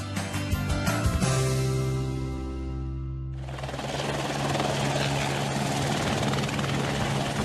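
A helicopter heads off on a flight in Guyane. Its rotor starts with a rhythmic chopping and a rising engine whine, then gives way to a loud, sustained rushing drone as it flies.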